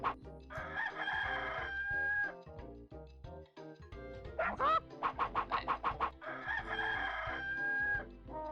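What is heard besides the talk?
chickens clucking in 102 Dalmatians: Puppies to the Rescue video game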